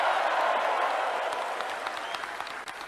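Crowd applause at a political rally speech, dense clapping that gradually thins over three seconds, with scattered sharper claps near the end.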